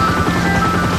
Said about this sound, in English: We're in a helicopter, Phil.